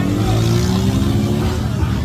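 Motocross engine revving loudly nearby, a rising, buzzing whine held over about two seconds, with voices faintly mixed in.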